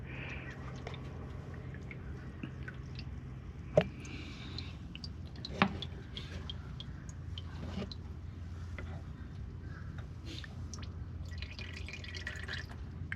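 Engine oil drains from a 2016 Honda Civic 2.0L during an oil change: a faint, steady trickle and drip runs throughout, with two brief sharp knocks near the middle.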